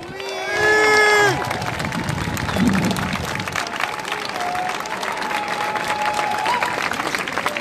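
Outdoor crowd at a Lorient rally against the global security law breaks into sustained applause and cheers right after a shout, continuing steadily to the end.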